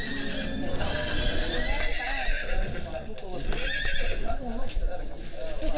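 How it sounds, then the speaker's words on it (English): Horses in the Philippines neigh and whinny repeatedly, close and loud, with hooves clip-clopping and people talking over the calls. "Oh, our horses is calling us now"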